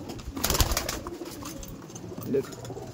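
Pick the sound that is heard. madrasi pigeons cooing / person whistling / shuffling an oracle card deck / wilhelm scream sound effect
madrasi pigeons cooing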